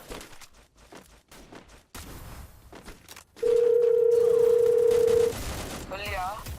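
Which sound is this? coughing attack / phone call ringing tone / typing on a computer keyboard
phone call ringing tone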